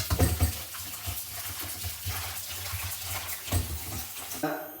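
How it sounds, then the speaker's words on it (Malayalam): Squid pieces are washed by hand in salted water in a sink, making a continuous close splashing and swishing of water with a few louder sloshes. "അപ്പോൾ നമ്മൾ ഇതിനകത്ത് അല്പം ഉപ്പിട്ടിട്ട് അത് കഴുകിയെടുക്കാൻ പോകും."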